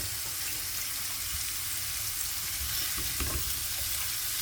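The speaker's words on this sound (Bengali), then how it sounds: "আগে সবজিগুলা ভেজে নিব" Vegetables for restaurant-style vegetable rolls fry in a pan, producing a dense, even hiss of sizzling oil throughout, with a faint stirring scrape near the end and no voices.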